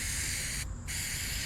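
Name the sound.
spraying during 1973 Ford F100 interior restoration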